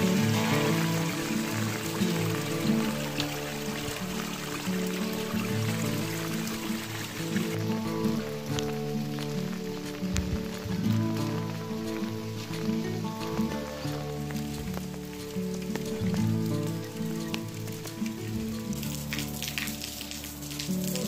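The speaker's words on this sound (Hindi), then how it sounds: "गांव के बच्चे भारी बरसात में भी रोज़ की तरह मंदिर में पूजा अर्चना करने के लिए जा रहे हैं।" Heavy rain falls steadily on mountain village paths in Rajiana Khas, Kangra, Himachal Pradesh, a dense, continuous wash of drops and running water with no letup.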